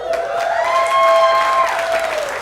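A comedy-show audience breaks into a steady wash of applause that fills the room, loud and sustained, with no talking over it.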